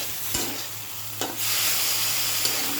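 Leafy greens frying and being stirred in a pan, a steady sizzle that swells louder partway through, with a few brief stirring clatters and no voices.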